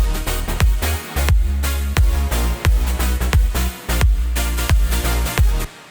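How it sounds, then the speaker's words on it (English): Synth chords with a reverse reverb effect swell into each beat inside a dense electronic mix, under a loud, pounding kick drum pattern. "Then I've added the same reverse reverb effect on the chords"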